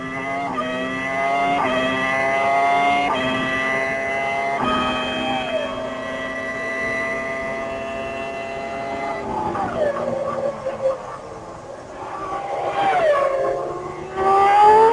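Onboard roar of Jean Alesi's Formula 1 car at Sepang during the 1999 Malaysian Grand Prix, a loud high-pitched engine climbing through gears with pitch sweeps, downshifts and lifts, continuous and close.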